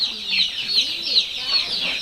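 Crowd of incubator-hatched layer chicks peeping nonstop, a bright overlapping stream of high cheeps close by, with a faint low voice murmuring underneath.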